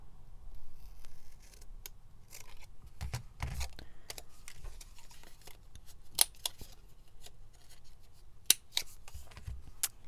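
Scissors cut paper for a junk journal pocket, a close series of sharp, crisp snips and clicks scattered irregularly across a quiet room, with some faint paper rustling between cuts.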